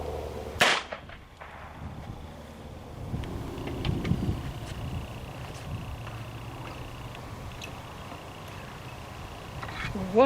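A single CCI .22 rifle shot cracks sharply early on at an outdoor range where flooring boards are the target, followed by faint background noise and a soft, muffled sound near the end.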